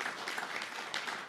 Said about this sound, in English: one more round of applause for the entire team